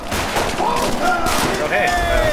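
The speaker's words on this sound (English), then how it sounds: "Whoa, grenades!" Dense gunfire and bursts of explosions from grenades fill a World War II battle in Call of Duty: World at War, a constant loud wall of shots with rising whistling tones, and a voice speaks over it.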